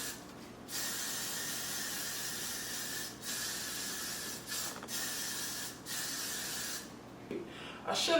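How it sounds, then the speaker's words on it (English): Freeze hair spray hisses steadily from an aerosol can onto a wig in long continuous bursts, with a few brief pauses between sprays, close and fairly quiet. "then I'm gonna freeze spray"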